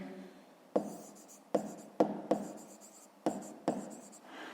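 Pen writing on paper while working a fifth-grade maths exercise, with a series of six short, close scratchy strokes, each starting sharply and then fading, and quiet pauses between them.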